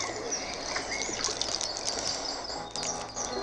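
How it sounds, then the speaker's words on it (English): Birds in a game trailer chirp and tweet over a soft hiss of ambience, with repeated bright, fairly close calls all the way through and no talk. "A bird."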